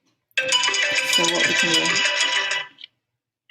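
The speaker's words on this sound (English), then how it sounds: "sorry, that was my alarm." A phone alarm ringtone goes off loudly and close, a bright chiming melody for about two seconds before cutting out, followed by a brief voice.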